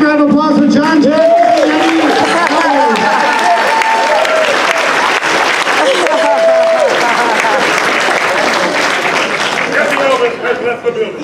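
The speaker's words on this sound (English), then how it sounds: "a big round of applause for John Jack" Loud crowd applause and cheering greet a costume contest entrant at STC 2017, steady and dense for about ten seconds with whoops and voices mixed in, tapering slightly at the end.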